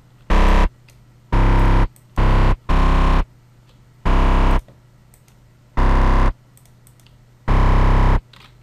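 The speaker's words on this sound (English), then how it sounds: "Add a little distortion." A distorted dubstep bass synth patch being shaped in FL Studio plays in loud, evenly repeated blasts, each roughly half a second long with short silent gaps between them, with no talking.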